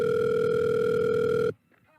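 A steady telephone tone hums loud and unbroken for about a second and a half, then cuts off abruptly, leaving near silence. It comes as a call is placed to a liquor store.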